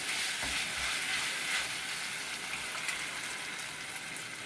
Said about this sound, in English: Just add in this eggs into this mixture now.